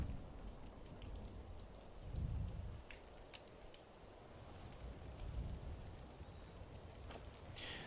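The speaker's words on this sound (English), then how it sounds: "And there's still torrential rain" Heavy, steady torrential rain in the video game Skyrim pours down, a dense hiss with low rumbling swells, quiet and continuous with no voices.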